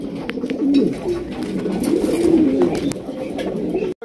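Several pigeons, male and female, coo in low, throaty repeated phrases, close by and continuous, over a soft background of rustling and faint clatter.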